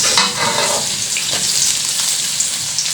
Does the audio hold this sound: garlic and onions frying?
yes